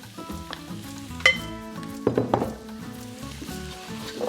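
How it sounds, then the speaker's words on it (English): Chunks of butternut squash stirred through hot, sizzling curry paste in a single pot for a Sri Lankan vegan pumpkin curry, giving close, steady frying hiss with several sharp scrapes and knocks of the spoon and no talk. "make sure that I coat the pumpkin with all of this goodness, this paste that we've made"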